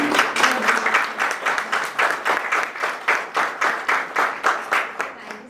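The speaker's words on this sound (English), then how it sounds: "give another round of applause for him" Audience applause at a solo art exhibition opening in a Chennai gallery, settling into rhythmic, evenly spaced unison clapping that grows more distinct and slightly fades toward the end.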